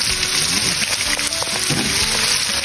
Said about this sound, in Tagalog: Painit na po ang ating mantika. So magdiprito na tayo.